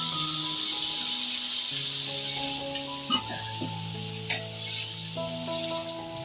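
Cooked dal goes into a pan of simmering water, giving a soft, continuous sizzle and bubbling hiss with a couple of brief clatters from a utensil, close and steady throughout.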